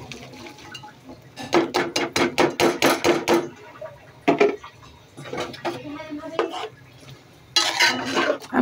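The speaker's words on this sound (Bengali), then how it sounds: "এখন আমি সবজিগুলো দিয়ে দিব। এই যে সবজিগুলো দিয়ে দিচ্ছি।" Vegetables go into a hot cooking pan with a rapid series of loud metallic clatters and scraping knocks, then quieter stirring and a final burst of clanking near the end.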